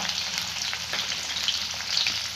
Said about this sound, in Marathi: आता मोहरी जिरे चांगले तडकलेले आहेत